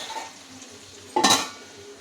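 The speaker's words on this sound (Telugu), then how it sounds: "ఇది బ్రౌన్ కలర్ వచ్చే వరకు వేయించుకోవాలి" Food frying in a pan until browned, a faint low sizzle broken by one brief loud scrape or clatter of a utensil against the pan near the end, close, no voices.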